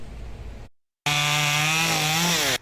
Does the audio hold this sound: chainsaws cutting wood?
yes